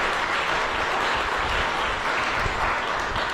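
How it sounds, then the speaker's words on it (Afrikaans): A church congregation of the Dutch Reformed parish in Oudtshoorn applauds during a confirmation service: dense, continuous clapping from many hands, loud and even throughout. "Ons gee vir 'n lekker hande klap."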